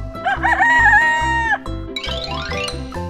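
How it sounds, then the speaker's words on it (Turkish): A rooster crows loudly and close by, one long rising-and-falling call, followed by a short burst of clucking fowl sounds. "horoz,"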